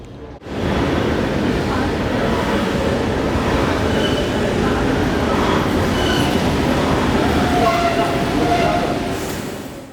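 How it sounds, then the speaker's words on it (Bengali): A Brussels metro train heading to Heysel rumbles loudly and continuously from inside the carriage, with wheel noise and a brief squeal, starting abruptly after a quiet moment and fading slightly at the end, with voices faintly underneath. "আজকে আমরা মেট্রো ধরে যাব হেইজেল।"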